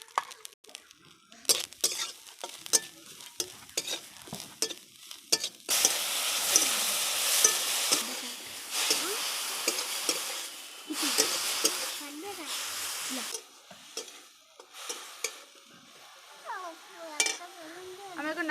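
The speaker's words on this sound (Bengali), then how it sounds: "আমার কড়াইটা গরম হয়ে গেছে। এবার নারকেল কুচিগুলো দিয়ে দিলাম।" Grated coconut is stirred in a hot wok, with a hissing sizzle and scraping spatula strokes that come in bursts, louder through the middle, while people talk intermittently.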